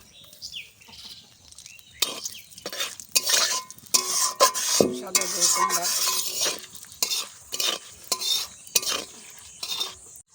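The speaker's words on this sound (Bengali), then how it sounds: "কড়াই গরম হয়ে গেল এবার দুটো শুকনো লঙ্কা দিয়ে দিলাম দুটো তেজপাতা" Dry red chillies and bay leaves dropped into a hot wok for tempering, heard as bursts of sizzling mixed with clattering spatula stirs and scraping against the metal pan, close and fairly loud with short pauses between strokes.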